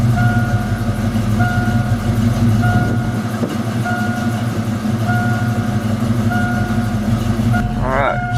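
A Foxbody Mustang 5.0 V8, running cold with an oil pressure problem, idles steadily at about 900 RPM as a loud, close, continuous low rumble with a faint high whine.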